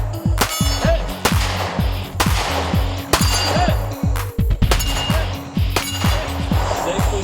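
Pistol shots ring out against steel targets at an outdoor run-and-gun match, each report followed by a sharp metallic clang, fired in quick irregular strings of about eight to ten shots, loud and close.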